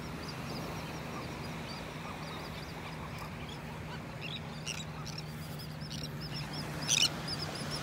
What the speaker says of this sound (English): the birds are taking off here